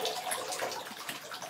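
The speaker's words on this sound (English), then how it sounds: "Look how little water is coming." Water runs from a tap into a dog bath, a steady, hissing trickle close by that stays even throughout with no voices.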